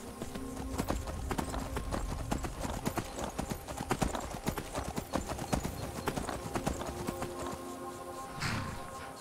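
Horse hooves clip-clopping in a steady rapid rhythm in the Skyrim video game, with a whinny near the end, moderately loud and close, with faint talking underneath.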